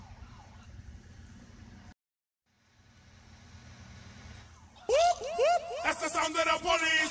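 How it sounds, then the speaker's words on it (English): In Grand Theft Auto: Chinatown Wars, low engine rumble under faint chatter, a brief dropout, then a loud wailing police siren with warbling, rising-and-falling tones cuts in near the end. "That's the sound of the police."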